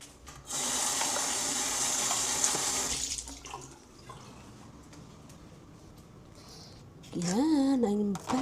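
A kitchen faucet runs hard while something is rinsed under it for a few seconds. The rush then drops to quieter handling and drips, and a brief voice comes in near the end.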